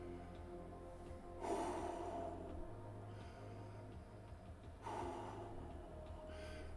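Slow, heavy, deliberate breaths drawn in and pushed out by a man during a cannabis smoking session, two strong gusty exhalations standing out over a low steady background hum, close to the microphone.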